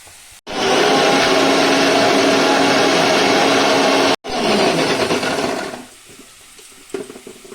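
An electric grinder whirs loudly and steadily as it blends cooled fried spices into a paste for kadai paneer, running in two long bursts with a brief stop between, then winding down to quieter rattling.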